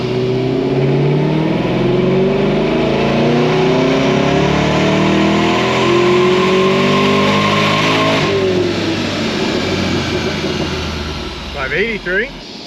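A supercharged LS7 car engine with a Corsa cat-back exhaust revs hard during a dyno pull: a loud, sustained, rising roar that holds, then eases off and drops away near the end.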